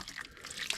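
Plain cold water pours over a tractor battery to flush away acid residue, a faint trickling and dripping splash heard alone at close range.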